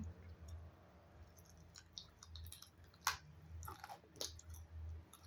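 Someone eats crispy fried food coated in Korean-brand batter seasoned with pepper and garlic, with soft, close crunching and chewing in quiet bursts over a low background hum.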